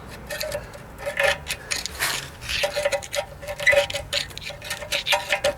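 A screwdriver adjusting the handbrake shoe adjuster on a BMW, heard as close, repeated metallic clicking and ratcheting scrapes in an uneven rhythm, with no voices.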